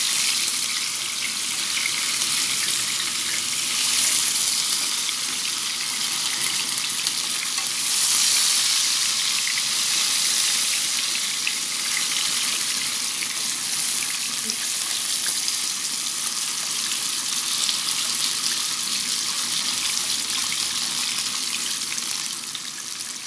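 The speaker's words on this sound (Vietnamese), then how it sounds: "Mình sẽ cho cái phần mì căn mình vô đây mình chiên ha." Wheat gluten pieces fry in hot oil in a pan, giving a continuous dense sizzle that holds steady throughout with faint stirring, and nobody talks.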